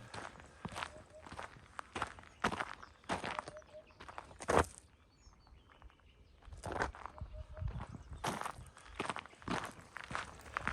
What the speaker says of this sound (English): the sound of the gravel under my feet, walking through these trees